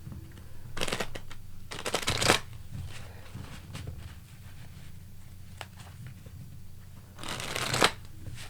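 Tarot cards being shuffled in quick riffling bursts, with a short burst, a longer one around the two-second mark and another near the end, separated by quiet stretches with no talking.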